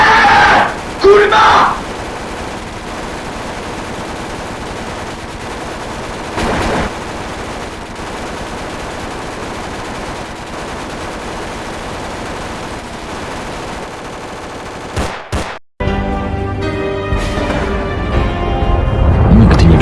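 Loud video game machine gun fire rattles in sustained bursts with shouting, then a sharp final shot and a brief silence before noisy action resumes.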